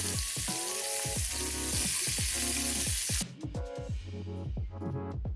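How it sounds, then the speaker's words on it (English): A tuna steak sears in olive oil in a hot pan, giving a loud, continuous sizzle and hiss that drops abruptly partway through and then carries on more softly with a steady low hum underneath. "I'm adding more olive oil to sear the tuna steak, just 1 to 2 minutes per side"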